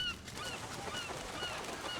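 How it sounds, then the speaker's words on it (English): Many gulls squabble at an island breeding colony, calling and squawking at once in a noisy, overlapping chorus, harsh and close. "Birds, making the islands their breeding ground, fight for the best plot on this real estate."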